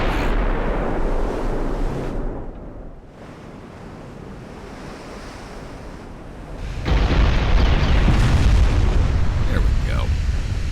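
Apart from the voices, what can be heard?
naval gunfire and shell explosions in video game Ultimate Admiral: Dreadnoughts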